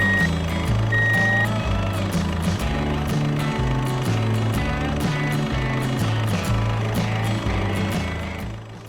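A toy dump truck gives out a rapid, regular series of electronic reversing beeps that runs the whole clip over a steady mechanical rumble, loud and close, with no speech.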